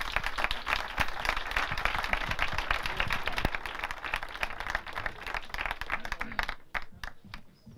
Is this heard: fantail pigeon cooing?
no